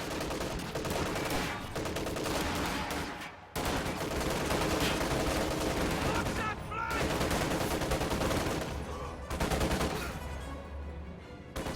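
Units trade fire in a World War II strategy game battle, with a Kubelwagen shooting back as a capture point is overrun; dense, continuous gunfire and bursts fill the whole stretch, loud and steady with brief dips.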